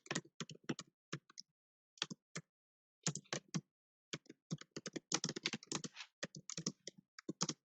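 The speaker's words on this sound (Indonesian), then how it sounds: "saya ketik dua jawaban yang memungkinkan" Computer keyboard keys are typed in quick, close clicking bursts separated by short silent pauses, crisp and near against a quiet background.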